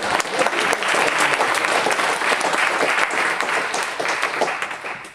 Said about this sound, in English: You guys all owe yourself a round of applause.